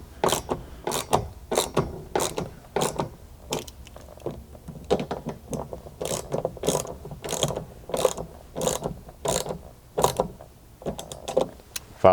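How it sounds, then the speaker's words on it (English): A hand ratchet tightens the upper mounting bracket bolts of a rear window MOLLE panel inside an 80 Series Land Cruiser, giving repeated bursts of close, crisp clicking with short pauses between strokes. "Then you can go ahead and tighten this upper mounting bracket."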